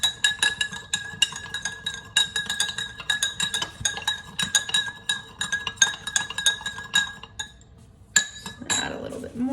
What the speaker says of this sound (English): I'm just gonna add salt and stir until there's so much salt that it doesn't dissolve.